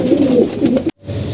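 Male pigeons coo close by in low, throaty rolling calls, two soft pulsing phrases before an abrupt cut, then a quieter continuation.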